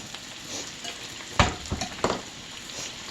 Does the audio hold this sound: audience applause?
no